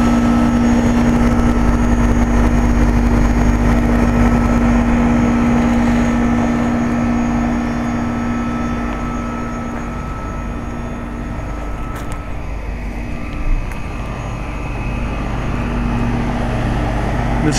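Goodman heat pumps running outdoors at a condo complex, a loud steady mechanical hum with a strong low tonal drone and fan whir, continuous throughout.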